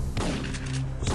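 In Syphon Filter 3, a shotgun goes off in heavy, booming blasts during a firefight, dense and close.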